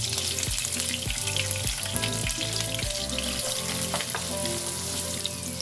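White onion frying in butter in a pan, a loud steady sizzle with rhythmic scraping and stirring strokes at regular intervals.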